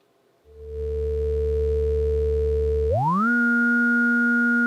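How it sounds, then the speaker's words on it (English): A steady modular synthesizer oscillator tone drones, then glides upward in pitch and settles on a brighter, higher sustained note. "I'm going to pull up on Oscillator 2, something more complex"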